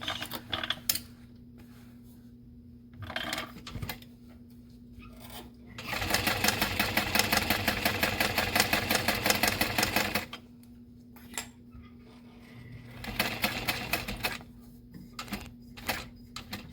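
A sewing machine top stitches a handbag in short bursts and one longer run, its rapid mechanical chatter stopping and starting with quiet pauses between.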